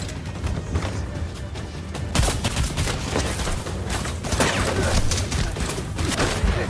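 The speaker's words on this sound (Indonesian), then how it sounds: "Yuli yang kali ini harus berhadapan dengan Kim pun langsung menembak ke arah pria tersebut hingga kehabisan peluru" Pistol gunfire in a film action scene, rapid sharp cracks fired one after another until the gun runs dry, dense and loud with a shot roughly every fraction of a second.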